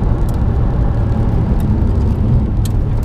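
Ferrari 430 on a race track, heard as a steady, loud rumbling drone of engine and road noise, continuous and close with no talk over it.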